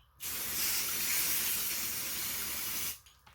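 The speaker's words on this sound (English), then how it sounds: "So I'm just going to spray a bunch of paint in the water." A steady, loud hiss of spray paint sprayed onto water for hydro dipping runs for about three seconds, starting and stopping abruptly, with no voices.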